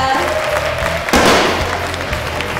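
A crowd greets a women's golf tour winner with a sudden burst of applause and cheering that swells over fanfare-like music and then settles back under it.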